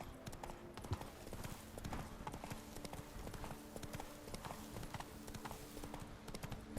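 Steady clip-clop of several horses' hooves trotting in the video game The Witcher 3: Blood and Wine, a busy rhythmic patter continuing throughout over a low background hum.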